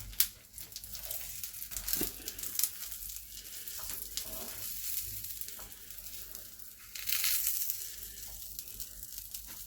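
A pepper and cheese omelette sizzles and fries steadily in a pan, with brief clatters and a louder burst of hiss as it is flipped near the end; no talking.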